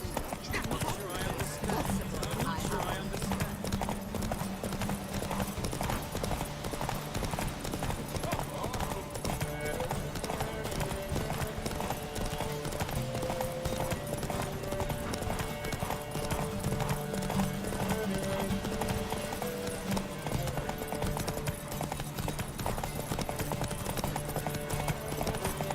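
Roach, a horse in The Witcher 3, gallops with rapid, continuous hoofbeats throughout, under game music and character voices.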